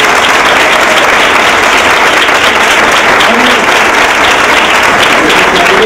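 Audience applause during a pilgrimage celebration for the Virgen de la Cabeza: loud, dense, continuous clapping that fills the whole stretch without a break.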